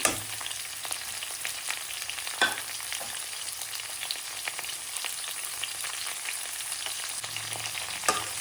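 Carrots fry together with cauliflower and potatoes in a pan, making a soft, steady crackle of frying with faint stirring scrapes and occasional small pops throughout.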